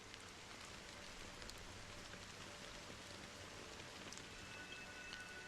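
Rain falls as a soft, steady hiss of fine drops in a scene from the video game Honkai Star Rail, even and quiet with no voices.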